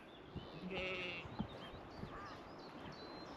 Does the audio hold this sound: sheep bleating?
yes